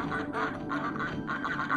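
Repeated duck-like quacks from a goose in the Frogger video game, three or four nasal calls in quick succession, near and steady, with no talking over them.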